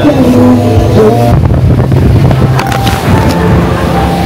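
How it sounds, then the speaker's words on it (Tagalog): Strong wind buffets the microphone on the deck of a river cruise boat on the Chao Phraya in Bangkok, a loud continuous roar mixed with engine and water noise. "Malakas na yung hangin."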